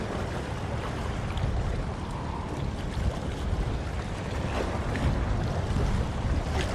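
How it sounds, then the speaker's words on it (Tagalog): Sea waves wash and churn with a constant rushing noise at Cagbalete Island, Mauban, Quezon, mixed with wind across the microphone, fairly loud and unbroken. "Ito yung alon ngayon."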